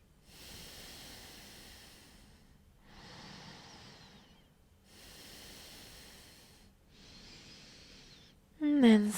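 Slow, deep yoga breaths taken while paused in a forward fold: four long, airy breaths alternating inhale and exhale, fairly close and steady, with a brief voice starting at the very end.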